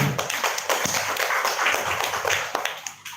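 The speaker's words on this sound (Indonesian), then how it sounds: "Mari Bapak Ibu kita tepuk tangan bersama." Bapak Ibu teachers at an Indonesian school gathering clap together, a dense, mid-loud patter of many hands with some sharper individual claps standing out, continuing evenly throughout without speech.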